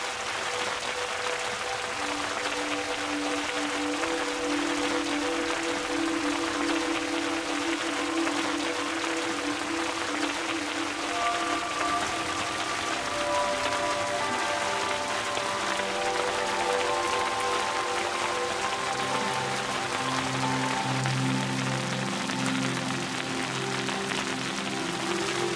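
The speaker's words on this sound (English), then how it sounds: "It's raining." Steady dense hiss of rain pattering on a surface for the whole stretch, with faint tonal sounds drifting in underneath.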